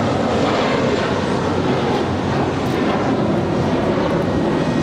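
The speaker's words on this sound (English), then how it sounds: "This is JetBlue, Flight 324 departing to JFK. It's an A321." A JetBlue Airbus A321 taking off from LAX fills the air with a sustained, loud jet roar that holds steady and even, with no voices over it.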